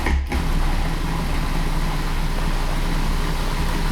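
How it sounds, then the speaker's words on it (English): A food processor blending salsa verde, a loud, steady, unbroken motor roar that starts abruptly after a short gap and continues to the end with no talk. "pardon the noise while I go ahead and process this"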